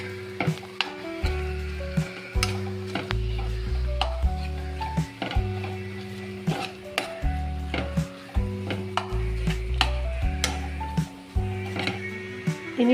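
Chili powder and coriander powder being stirred into oil in a frying pan while making squid fry, with repeated spoon knocks and scrapes over a steady sizzle throughout.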